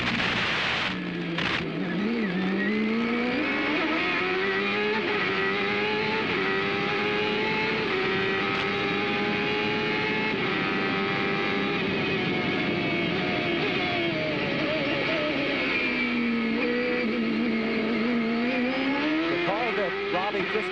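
Onboard a CART race car at the 1995 Australian Grand Prix, the engine screams loud and continuous, its pitch climbing and dropping through gear changes around chicanes, with one sharp downshift near the start.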